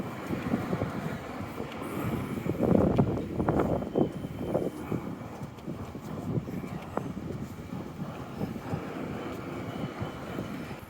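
Gusty wind buffets the microphone in a low, uneven rumble that swells and fades, with no talking, while walking through the North End streets from Scotia Square.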